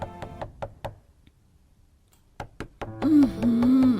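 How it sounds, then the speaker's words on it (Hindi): Rapid knocking on a door in a Hindi cartoon, two quick bursts of sharp raps with a pause between, followed by a sustained tonal cartoon sound effect. "अगली सुबह 5 बजते ही खटखट होता है"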